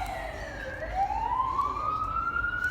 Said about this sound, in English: as the siren goes by